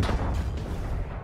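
A C4 blast in the shooter Black Ops Cold War: a loud, rumbling low boom that fills the whole short moment and rolls on without a break.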